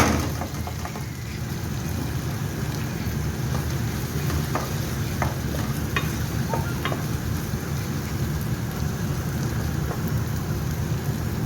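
Mashed potatoes are stirred into hot oil, a steady, dense, rain-like sizzle with a low rumble beneath it, sparse clicks from the spoon, and no voices.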